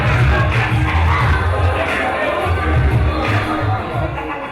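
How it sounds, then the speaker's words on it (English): A large wrestling arena crowd roars and cheers continuously, a dense wash of voices calling for an encore, fairly loud and sustained before easing slightly at the end. "Encore, they want more, Ricky."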